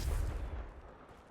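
A Confringo fire spell bursts in Hogwarts Legacy during a fight with spiders, one short booming blast that rumbles and quickly fades.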